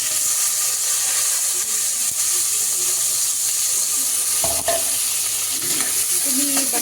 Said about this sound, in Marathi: आपण फ्राय होऊ देऊ म्हणजे छान तेलामध्ये